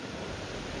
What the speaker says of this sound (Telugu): సౌండ్ వినిపిస్తుందా వాటర్ది?